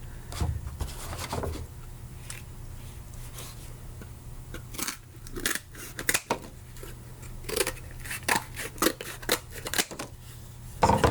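A piece for a robot upper arm is cut and shaved down by hand, giving irregular close crunching snips and scraping strokes in bursts, with quiet gaps and a low steady hum underneath.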